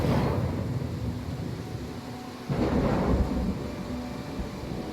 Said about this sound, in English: all of a sudden there's a storm on this save